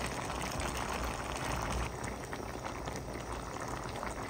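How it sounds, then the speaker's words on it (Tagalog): Sliced eggplant and zucchini sizzle steadily in a hot pan as the vegetables sauté, a dense, continuous bubbling hiss that stays close and even throughout with no voices. "Lutuin lang po natin ang ating mga gulay at pwede na po tayo kumain po."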